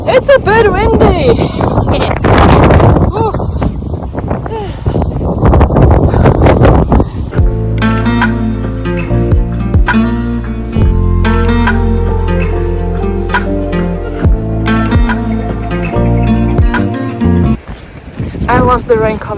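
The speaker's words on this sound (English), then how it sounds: "It's a bit windy." Gusty wind buffets the microphone outdoors on the Kungsleden trail in Swedish Lapland, loud and rough for the first seven seconds with a person talking over it, then giving way to music.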